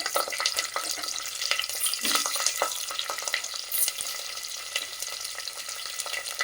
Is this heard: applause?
no